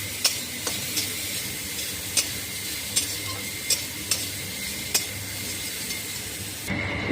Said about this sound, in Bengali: একটুখানি ভেজে নিচ্ছি ফুলকপি লবণ হলুদ দিয়ে